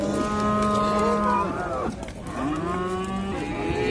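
Bulls at the Jalal-Abad livestock market moo loudly and continuously, with long, drawn-out overlapping calls close by against the crowd noise of the market.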